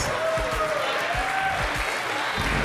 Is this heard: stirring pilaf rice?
no